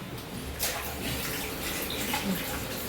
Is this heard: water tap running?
yes